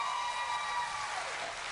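Debate audience applause, a dense wash of clapping held at a steady loudness throughout, fairly close and with no voices over it.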